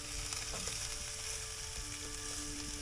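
Thick, fresh lingcod fillets frying in a pan give a steady, close sizzle throughout, with faint clinks and scrapes in the background and no voices.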